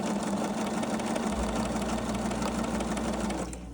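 Sewing machine stitching striped fabric into bias binding, a steady close mechanical whir with a rapid needle chatter and a low motor hum that stays loud throughout, then eases off at the end, with no talking.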